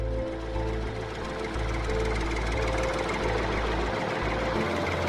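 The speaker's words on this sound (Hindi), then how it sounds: "वो देखो आ रहा है हमारा महिंद्रा एसपी प्लस ट्रैक्टर।" A Mahindra SP Plus tractor engine runs with a steady, low diesel throb and knocking chug, holding close and loud throughout without any talk.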